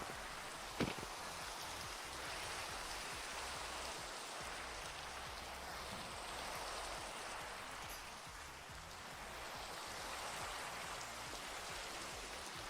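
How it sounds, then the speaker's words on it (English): Steady rain falls in the video game A Game About Digging a Hole, a continuous broadband hiss that holds an even level throughout, with one small click near the start and no voices. "It's raining again."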